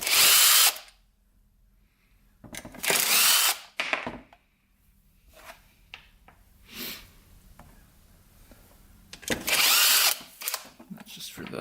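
A power tool, likely an impact or drill, spins bolts out of a Suzuki RM125 dirt bike in the workshop, firing in three loud bursts separated by quieter handling clicks and rattles of parts.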